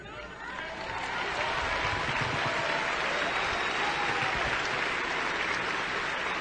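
Audience at a speaking event bursting into applause after a speech, the clapping swelling over the first second into a loud, dense, sustained roar of many hands with crowd noise mixed in.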